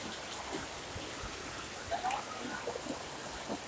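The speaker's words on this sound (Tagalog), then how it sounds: "Lakas ng ulan" Heavy rain falling steadily, a dense continuous hiss with scattered drop impacts, moderately close and alone with no voices.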